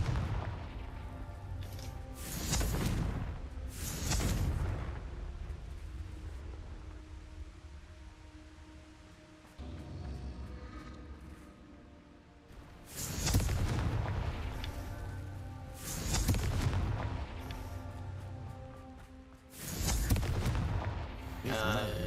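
Booming blasts from the Confringo explosive spell in Hogwarts Legacy, several heavy, loud explosions in two clusters with rumbling decay between them.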